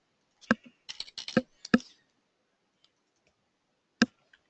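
Sharp computer mouse clicks during software setup: a quick pair, then a close cluster of three or four, then a single click after a pause, crisp and near in a quiet room.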